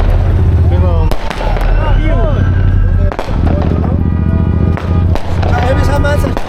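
Loud New Year fireworks bursting in rapid succession, sharp cracks and booming pops overlapping with a continuous crackling roar, with excited voices underneath throughout.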